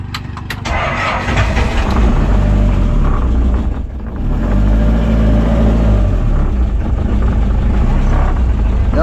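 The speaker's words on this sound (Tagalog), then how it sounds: "mausok yan pag andar, tapos palyado sa minor pag bagong andar" A freshly started engine idles roughly and unevenly, a steady loud rumble with an uneven, stumbling pulse that briefly dips before picking back up, heard alone and up close.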